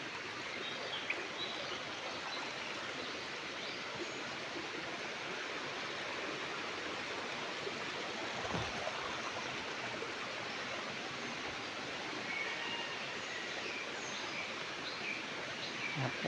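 Flowing water rushes in a steady, broad roar, like a stream feeding a waterfall in Phetchabun, Thailand, with faint bird calls now and then above it.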